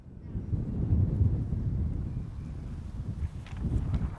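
Wind gusts buffet the microphone outdoors in Yorkshire, a low rumbling roar that swells and eases steadily across the whole stretch, with no talking.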